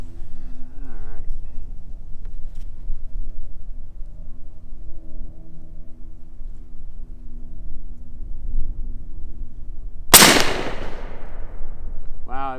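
A single sharp, loud crack from an Umarex Hammer .50 caliber air rifle, close by, with a quick decaying tail against a quiet outdoor background and faint rumble.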